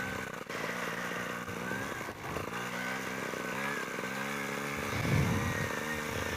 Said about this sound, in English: it's this little trials bike